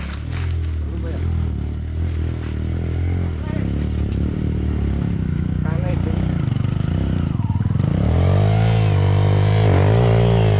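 A motorcycle engine hums and rises in pitch as it accelerates, with people talking over the engine noise.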